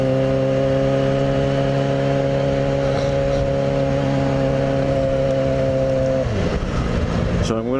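A Yamaha FZ6R motorcycle engine drones loudly on a 37-degree morning ride, a steady, sustained tone under rushing wind that dips and shifts near the end.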